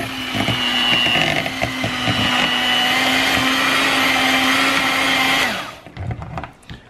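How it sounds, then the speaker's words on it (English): An electric mixer whirs steadily as it beats a cream cheese pepper and relish dip, a loud continuous motor drone for about five seconds before switching off, followed by a few faint clatters. "I'm just going to mix that around real quick"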